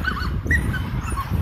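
An excited dog at a dog park whimpers and yips in quick, close bursts, with short whiny cries repeating over brief moments.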